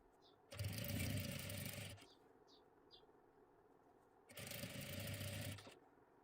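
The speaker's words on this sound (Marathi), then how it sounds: "एकदम कडेकडेला एक शिलाई देऊन घ्यायची आहे" Household sewing machine running a stitch line right along the edge of a puff sleeve, two separate bursts of steady whirring, each lasting a second or two, close by with a quiet pause between them.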